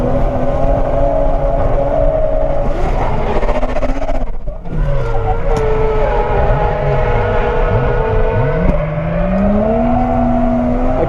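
A Toyota JZX90 engine roars loud and close as the car drifts through a corner, revs rising and falling with a brief dip mid-way, tire squeal woven through the drone.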